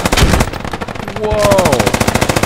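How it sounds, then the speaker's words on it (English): In the Squad video game, heavy automatic gunfire hammers close and loud in rapid, evenly spaced bursts, with a brief whistling tone partway through and a voice shouting under the shots. "I just got nailed with about 10 million rounds of bullets."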